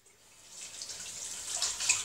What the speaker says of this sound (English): Just wash my hands again.